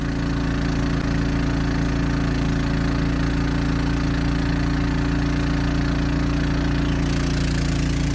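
A Champion 3500 portable generator installed in an RV runs steadily, a constant low engine drone with a deep hum that continues unbroken, close and alone.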